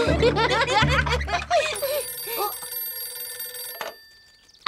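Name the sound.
telephone ringing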